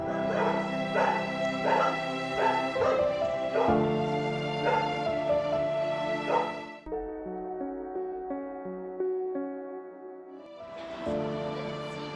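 Stray dogs bark in quick repeated bursts, then whimper and whine in long high cries before barking resumes, close and loud.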